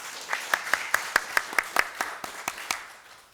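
A round of applause for Aberdeen Mayor McGrady fills a large venue at an annual municipal address, with crisp individual claps over a crowd patter that gradually thins and fades toward the end.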